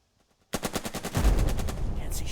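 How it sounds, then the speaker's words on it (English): Rapid bursts of video-game gunfire from Burden of Command, a sharp volley that breaks in after a brief quiet and carries on as dense, repeated shots with a heavy low rumble underneath. "I'm going to shoot at this leader"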